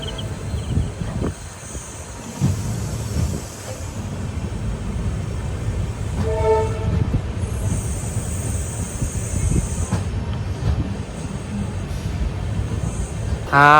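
An express train, the Rameswaram–Tambaram service, rolls into Thiruvarur Junction station with a steady, loud rumble of wheels and wind. A brief tonal horn-like note sounds midway.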